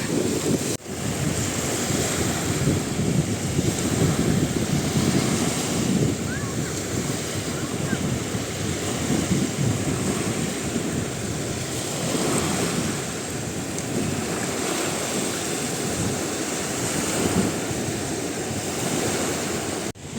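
Sea waves break and wash onto a beach in Albania, a steady, broad surf roar with wind buffeting the microphone, continuous and fairly close throughout.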